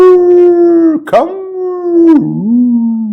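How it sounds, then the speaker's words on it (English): A dog howls in a long sustained tone, loud and close, with a short break and a falling pitch near the end. "And the howling is the bonding, and put that come into that howl."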